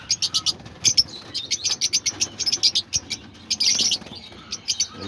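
Pet lovebirds in an outdoor aviary chirp in rapid, repeated high tweets, a busy near chorus of short calls overlapping almost continuously, with no talking.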